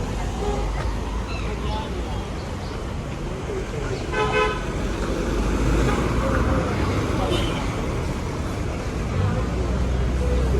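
Busy street traffic on 20th Street in Yangon's Chinatown, a steady broadband roar of cars and buses with a car horn tooting around the middle and scattered voices mixed in throughout.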